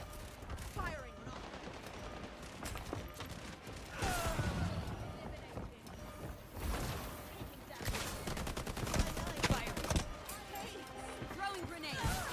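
Gunfire in the shooter game High Guard: dense bursts of rapid shots and mechanical clatter run almost continuously, loud and busy, with game sounds layered throughout.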